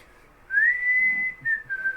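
One person whistles a short stretch of the melody of a song, clear and close, sustaining a steady pitched line with a slight dip near the end.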